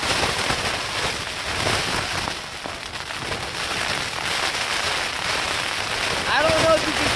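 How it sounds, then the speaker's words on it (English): Heavy rain drums on a backpacking tent during a storm on a mountain trail, a dense, steady hiss and patter that fills the clip from start to finish with no break. "It's thundering rain outside."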